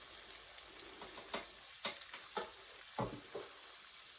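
Sweet and sour chicken pieces sizzle in a hot pan, cooked in small batches, a soft steady crackle broken by sharper spits and pops as the pieces are moved about.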